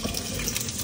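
A sink tap runs water into a bottle, giving a constant, close hiss and splash of flowing water over a short stretch without any voices.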